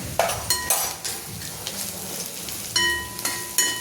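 Onions fry in a pan for paneer tikka masala, a soft sizzle broken by sharp clinks of a metal spoon against the pan as turmeric, red chilli powder and other spices go in.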